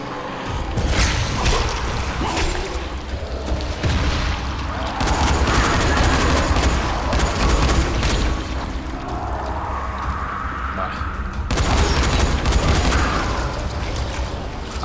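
Repeated loud shotgun blasts and gunfire bursts from the video game Dying Light, booming in clusters across a dense, noisy combat soundscape.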